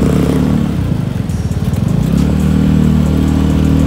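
A 2012 Vespa LXV 150 automatic scooter rides through dense traffic with its engine droning steadily and loud, dipping briefly mid-ride before the throttle picks up again.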